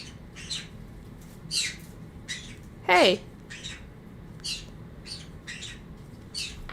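Pet birds chirping indoors, with several short bright chirps and a louder squawk spaced through the stretch, close by over faint background noise.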